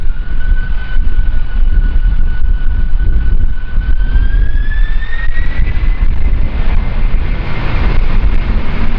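A Japan Air jet airliner takes off from runway 34 at Kagoshima Airport in strong gusty wind. The loud, continuous engine roar carries a rising whine and stays close, with wind rumble underneath.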